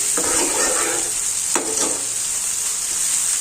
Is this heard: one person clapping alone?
no